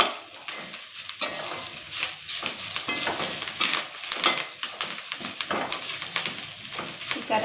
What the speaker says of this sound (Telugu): ఈ కరివేపాకు కొంచెం వేగాలండి, బాగా కొంచెం ఫ్రై అవ్వాలి పొడి పొడిగా